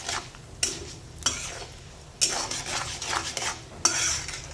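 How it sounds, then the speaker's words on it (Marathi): Millet fries in oil while a spoon stirs it, making a soft sizzle under sharp, irregular scrapes and taps against the pan, close and without speech. "आता आपण बाजरी ह्या तेलात टाकून घ्यायची आहे"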